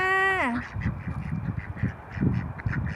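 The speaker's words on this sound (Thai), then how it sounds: "มีเป็ด เป็ด เป็ดเทศอันดำตัวหนึ่งแล้วก็เป็ดขาวตัวหนึ่งค่ะ" A brief, sliding voiced call opens before a black Muscovy duck and a white duck keep up soft, scattered quacking and low chatter nearby.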